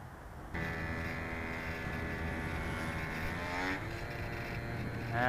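The electric motor of a HobbyZone Sport Cub S RC plane landing at a ballpark, a sustained buzzing whine that rises in pitch as power is given, with a soft sweeping pass near the end.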